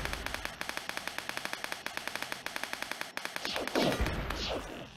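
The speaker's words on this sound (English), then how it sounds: "It's like basically a sniper rifle without a scope." Rapid gunfire from a sniper-style weapon in the online game Wings.io rings out as a regular string of sharp, evenly spaced shots, then gives way to a brief whooshing burst near the end.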